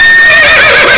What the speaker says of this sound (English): No, you brought out the horse.